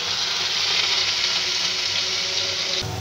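Garlic and chopped ginger sizzle in hot oil with black cumin seeds, with onion paste going in; a steady, loud, dense hiss of frying that continues unbroken throughout.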